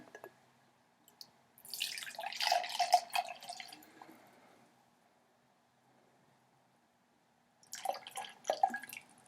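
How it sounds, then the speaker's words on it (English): Vinegar is poured into a glass over an egg in two bursts, a close splashing trickle lasting a couple of seconds, a quiet pause, then a shorter second pour. "Okay, so I'm going to pour my vinegar in over my egg."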